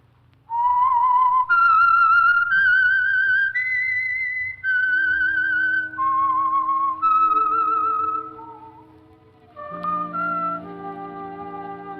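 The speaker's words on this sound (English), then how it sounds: "That whistle is your signal for the Signal Oil program, The Whistler." A whistled theme signal for The Whistler, a Signal Oil radio program from 1946, plays as a clear, loud melodic line of sustained notes stepping up and down, joined near the end by lower accompanying tones.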